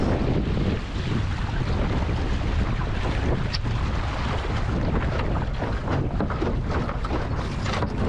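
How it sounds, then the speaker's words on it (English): Strong wind gust roaring across the microphone with rushing water beneath, a loud continuous blustery wash out on open water aboard a sailing boat. "When the gusts come, you really feel the boat kick, accelerate."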